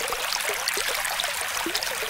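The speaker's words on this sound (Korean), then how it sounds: "스님이 일주문 밖 개울에서 근대를 씻고 있을 때였어요" A shallow stream flows steadily outside a temple gate while chard leaves are washed in it, a constant close babble and trickle with small splashes throughout.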